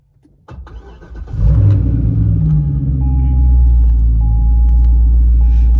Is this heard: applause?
no